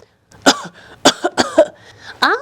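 Several sharp coughs in quick succession, close and loud, with a throat-clearing rasp at the end.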